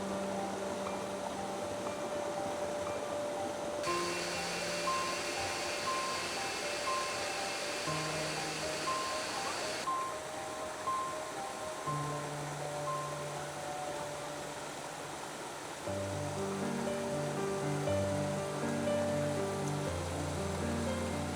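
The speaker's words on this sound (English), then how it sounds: "Now we have stopped at the Baihua waterfall" The Baihua waterfall on Hainan Island roars as a steady, broad rush of falling water, constant and fairly distant, with no voices.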